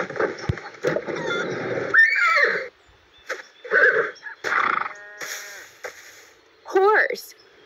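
Horse neighing in several short whinny bursts spread through the clip, separated by brief gaps, close and fairly loud, with speech-like voicing between calls and a final rising-falling whinny near the end.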